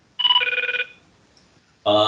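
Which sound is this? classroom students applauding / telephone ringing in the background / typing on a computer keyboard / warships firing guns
telephone ringing in the background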